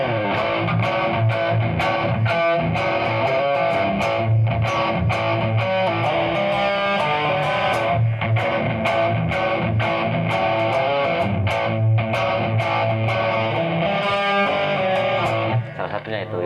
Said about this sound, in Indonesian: Harusnya distorsi nih.